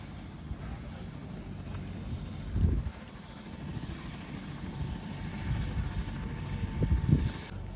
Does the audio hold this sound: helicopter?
yes